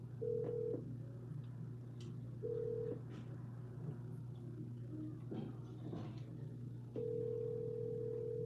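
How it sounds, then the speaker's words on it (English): Voicemail record tone on a real estate wholesaler's follow-up call to a seller: a steady electronic beep sounds three times over a constant low phone-line hum, the last beep longest. "At the tone, please record your message."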